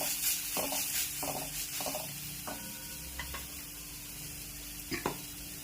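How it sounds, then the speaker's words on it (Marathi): Chilli, turmeric and asafoetida sautéing in hot oil, a steady sizzle with occasional stirring clicks and scrapes of a spoon in the pan. "हिंग आणि हळद घालून छान परतून घेऊया."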